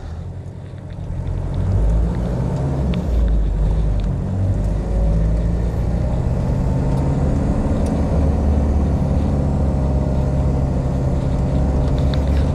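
A car riding on General Grabber tires drives along, its steady, heavy road rumble and engine drone building in the first seconds and then holding loud and constant without talk.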